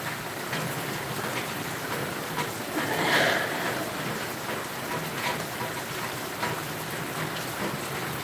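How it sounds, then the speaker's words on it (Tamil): Heavy rain from cyclone Ditwah falling in Puducherry, a dense continuous hiss with scattered spattering drops, steady throughout and swelling briefly in the middle, with no voices. "தற்போது உள்ள சூழலில் மழையின் தாக்கம் அதிகரித்துள்ளது"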